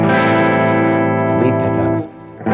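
Clean electric guitar notes from a PRS Dragon III on the lead pickup ring out with a wash of delay and reverb, a bright chord sustaining before fading briefly, then picking back up.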